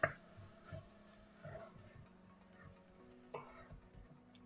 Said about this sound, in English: Stir it up nicely.